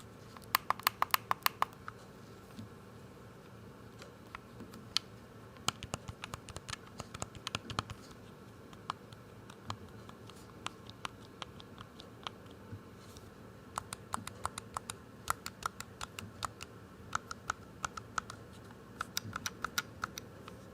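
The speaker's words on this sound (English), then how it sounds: "let's take a quick second and listen to how some of these buttons sound" Buttons clicking on an 8BitDo SN30 Pro controller, pressed one after another in quick, irregular bursts close to the mic, with no voices.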